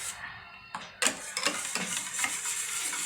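A spoon stirs melted chocolate with oil in a pan, making a series of soft scraping and clinking strokes in a quick, uneven rhythm, close up over a faint hiss.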